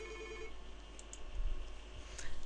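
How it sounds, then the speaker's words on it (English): Office desk phones in a call queue ring for an incoming call, a faint electronic tone sustained in the background with light clicks and room noise, no talk. "Frank's and Joseph's phone are ringing"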